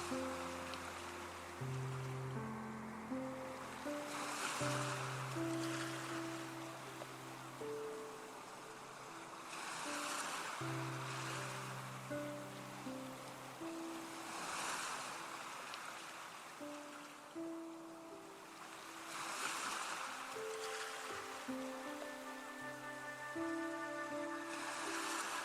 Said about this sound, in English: Letting the soothing sound of the waves continue to wash over you.